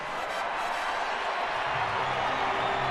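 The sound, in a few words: baseball crowd applauding pitcher Tim Lincecum at bat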